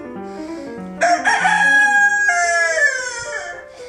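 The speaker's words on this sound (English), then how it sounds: "they have roosters guarding their living rooms" A rooster crows in a house in Tangier, one long strained call rising at about the one-second mark and holding for several seconds, close and loud above a low warbling start.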